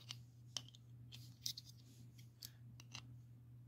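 Scissors snip a cover for a water-cooled 150A ESC, several quiet crisp cuts in an irregular rhythm, close and alone over a faint electrical hum.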